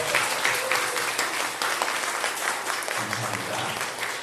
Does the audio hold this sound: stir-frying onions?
no